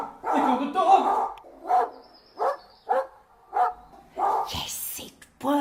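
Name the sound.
dog barking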